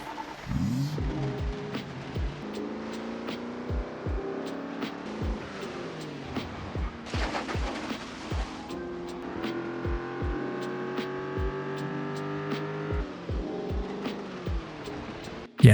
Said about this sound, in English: So let's put the sports car to use.